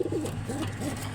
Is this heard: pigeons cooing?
yes